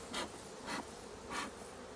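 Honeybees buzz around a hive frame during a honey harvest at an apiary, three close swells of buzzing passing by at steady intervals over a quiet background.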